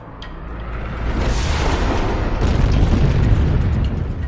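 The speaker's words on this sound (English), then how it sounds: "When the Earth was being bombarded constantly by asteroids" Asteroid impacts batter the early Earth in a loud, deep boom that swells after a sharp onset into a sustained roaring rumble, heard alone.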